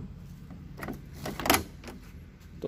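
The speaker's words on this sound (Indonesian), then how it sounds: "Untuk buka tutup pintunya juga masih enak." Door of a 1994 Daihatsu Taft GT 4x4 being worked open and shut, giving soft mechanical rattles and a sharper latch clunk near the middle, fairly quiet and close, with no talking.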